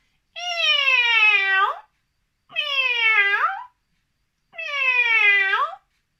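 A person imitates a cat with three long, drawn-out meows, each clear and close, separated by short silences with no other sound around them.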